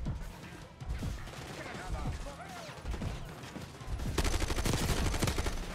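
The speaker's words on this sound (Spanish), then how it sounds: "La ametralladora por la derecha." Machine gun fire in the Call of Duty Black Ops 6 campaign, sustained rattling bursts mixed with other gunfire and explosions, growing denser and louder toward the end.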